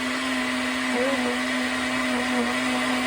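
A countertop blender whirs continuously as it purees cantaloupe lemonade, a loud, steady motor drone with a slight pitch wobble partway through.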